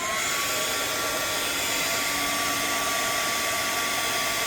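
A hair dryer blows steadily at close range, heating the glue in the binding of an adult coloring book; its constant high whine and airy hiss run unbroken, with no voices.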